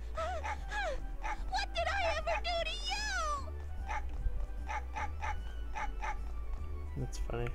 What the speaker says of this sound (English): Ah, it's a dog!